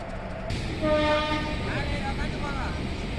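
The Nilgiri Express, hauled by WAP4 locomotive 22746, pulls out of Chennai Central with a steady rumble of rolling wagons and a long horn blast that sounds close, while someone talks.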